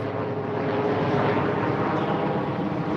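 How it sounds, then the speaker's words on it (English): A helicopter flies overhead, a loud, steady rotor and engine drone filling the whole stretch without any voices. "Look, I got a child support helicopter right here."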